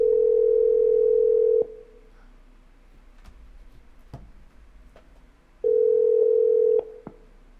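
Telephone dial tone sounds twice as a steady, loud hum, first for about a second and a half, then again after a quiet gap of faint clicks and ticks, before a call is answered.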